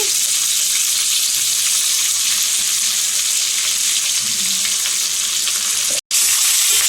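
Drumstick leaves with sesame powder fry steadily in a pan for Munagaku Thelaga curry, a loud, even sizzle with faint stirring throughout and a brief dropout near the end.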